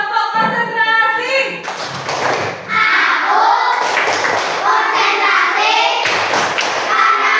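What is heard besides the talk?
class doing a rhythmic clapping routine (tepuk konsentrasi)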